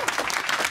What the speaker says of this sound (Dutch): Voor Ronald en Rick even applaus.